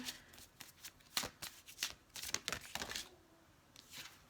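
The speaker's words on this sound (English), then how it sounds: "I keep getting like so many cards whenever I shuffle them." A deck of tarot cards is shuffled by hand in a run of quick riffling bursts, close and crisp, then it goes quiet near the end, with no talking.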